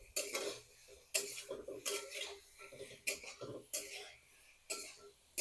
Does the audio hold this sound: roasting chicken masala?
yes